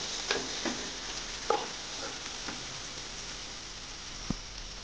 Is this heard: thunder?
no